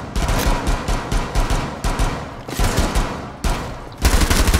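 Sustained P90 submachine gun fire in Rainbow Six Siege, rapid bursts of automatic shots rattling close and loud across the whole stretch with brief gaps between volleys.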